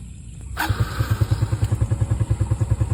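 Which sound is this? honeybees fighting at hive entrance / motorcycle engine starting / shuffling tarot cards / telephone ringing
motorcycle engine starting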